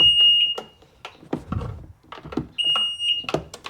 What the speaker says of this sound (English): let's see if we get the double beep